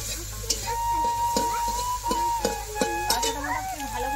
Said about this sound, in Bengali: পাকা টমেটো ভালো করে আমি ভাজতে হবে